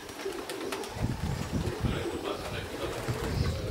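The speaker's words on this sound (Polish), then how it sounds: "I widzimy pojedynczo, dochodzą te gołębie." At a loft, racing pigeons arriving home give low, steady cooing that carries on throughout over a soft, constant outdoor background.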